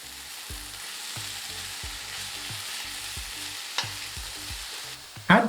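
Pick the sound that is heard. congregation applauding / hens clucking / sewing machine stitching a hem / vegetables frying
vegetables frying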